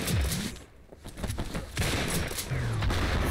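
Pistol gunfire in a first-person shooter video game, a .45 sounding like a Desert Eagle, with several loud, sharp shots and rapid bursts scattered through the clip amid game noise.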